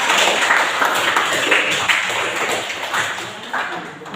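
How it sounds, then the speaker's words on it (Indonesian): Students in a classroom clap for a classmate, a steady burst of many hands that fills the room for about four seconds and fades slightly toward the end, with a teacher's voice mixed in. "tepuk tangan untuk Rita"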